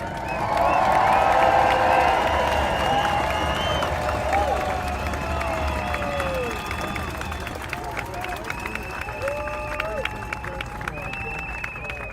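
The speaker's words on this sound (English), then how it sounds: "Please give a warm round of applause for Jessica Denson." A large crowd at a political rally applauds and cheers a speaker's introduction, loud at first and gradually settling, with voices and whistles mixed into the clapping.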